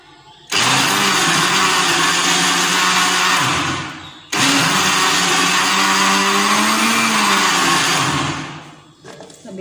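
An electric blender churns cream into butter in two long loud bursts of several seconds each, separated by a brief pause, the motor whirring steadily and close before winding down at the end.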